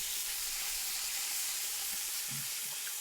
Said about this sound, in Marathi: सर्व मसाले एकत्र करून चांगले परतून घ्यायचे